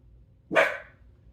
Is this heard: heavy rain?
no